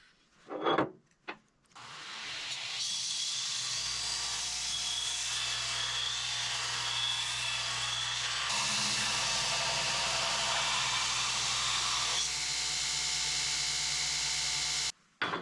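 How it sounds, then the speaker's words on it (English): An angle grinder cuts through the steel cutting edge of a skid steer bucket, a loud sustained high-pitched grinding whine running nearly unbroken after a brief start, then cutting off abruptly near the end. "Occasionally I like to cut things out with a grinder"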